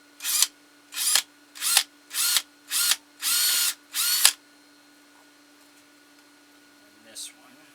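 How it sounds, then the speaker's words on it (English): A power drill bores a screw hole in wood for a carved ventriloquist figure, running in seven short close bursts with brief pauses between them, then it falls quiet apart from a faint click. "we're going to drill a hole in here for our screw"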